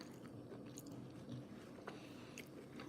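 Steak dinner being chewed up close: soft, quiet crunching and squishing bites with no talk.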